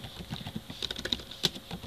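Computer keyboard typing as a commit message is entered, a quick, close patter of light key clicks running steadily with a few sharper taps and no speech.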